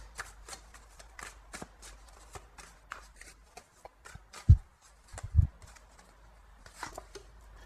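A deck of tarot cards shuffled by hand for a new draw: close, papery riffles and slaps with two sharper thumps midway, set against a quiet room.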